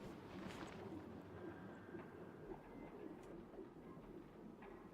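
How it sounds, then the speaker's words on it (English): A pigeon-like bird coos softly in the Alan Wake video game over a low, hazy ambient bed, faint and distant, with no voices. "Maybe that was just the bird I heard."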